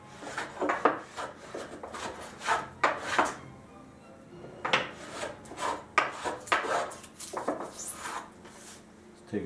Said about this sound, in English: and then I can scrape.